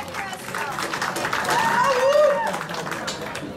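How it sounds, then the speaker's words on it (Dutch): Audience applause for both fighters at a kickboxing event, a continuous loud clapping crowd throughout, swelling slightly midway, with an announcer's voice and a few whistles over it. "Dames en heren, een groot applaus voor beide"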